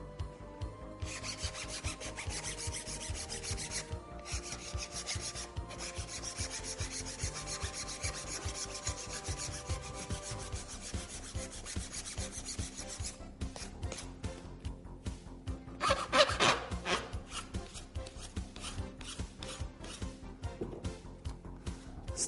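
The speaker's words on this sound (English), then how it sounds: "We can sand it off." A Q-Bond repair on a wheel cover being sanded off by hand, a steady rasping scrub of continuous back-and-forth strokes that runs close and even throughout, swelling briefly louder near the end.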